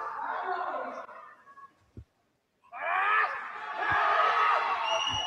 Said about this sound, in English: Crowd's getting behind it.